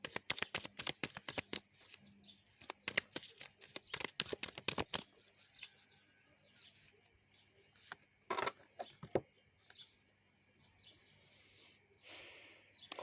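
Oracle cards riffled and shuffled by hand, with bursts of quick crisp flutters in the first five seconds, then a few more shuffles, near and fairly faint, with no talking.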